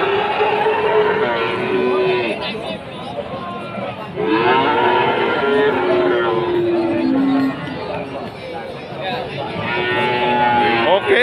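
Limousin and Simmental cattle at a livestock market moo repeatedly, several long calls rising over a steady crowd babble and background chatter.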